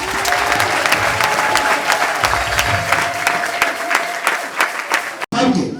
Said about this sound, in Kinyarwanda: Mukomere Yesu amashyi.